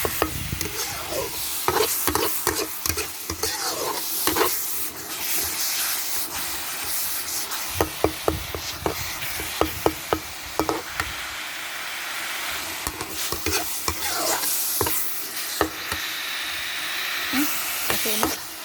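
Thai mackerel chili paste stir-fried in a pan sounds as a steady sizzle, with frequent sharp spatula scrapes and taps against the metal, close and fairly loud throughout with no speech.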